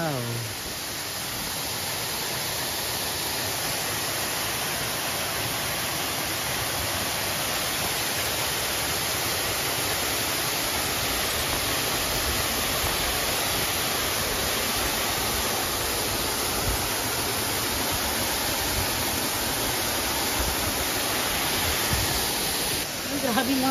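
Lugnason Falls on Siquijor pours in an unbroken, loud roar of rushing water, a steady wash of noise heard up close throughout.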